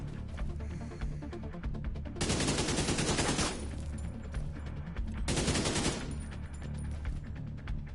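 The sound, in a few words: AK rifle gunfire in The Division 2 video game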